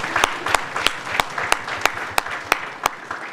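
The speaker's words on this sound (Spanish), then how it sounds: "Un segundo aplauso para los autores" Applause from an audience at a law book presentation, a steady run of sharp individual claps fairly close and moderately loud, with no talk over it.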